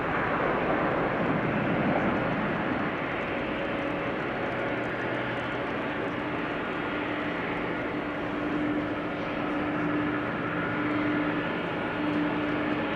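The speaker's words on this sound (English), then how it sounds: "Something loud is coming in on runway center. Delta A330." A loud Delta Airbus A330 airliner comes in to land at Amsterdam Schiphol Airport, its engines giving a steady, heavy roar that holds strong from start to finish, heard from nearby with no voices.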